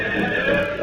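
A horse whinnies in a short, loud, wavering neigh, close up, as a radio drama sound effect.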